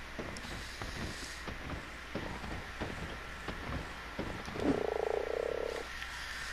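A frog mount in a video game croaks once, loud and close, in a single sustained throaty call over a steady bed of wind and water ambience.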